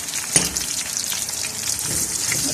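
Onions stirred and frying in a pan for a chicken liver and bitter melon dish, a steady close sizzle with a brief clatter of the utensil near the start and soft scraping throughout.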